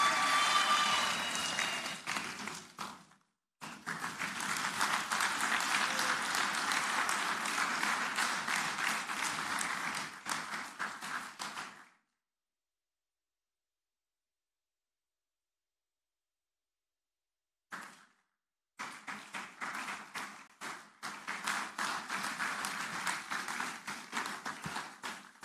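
A lecture audience gives sustained applause after an inaugural university lecture, with dense clapping in two long stretches separated by a silent gap and a short burst between them.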